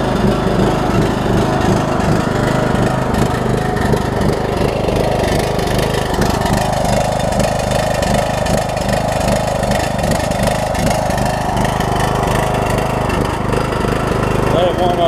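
A Troy-Bilt Bronco riding mower engine with a Nikki carburetor idles steadily while warming up, loud and close, with a slight surge, and someone talks over it.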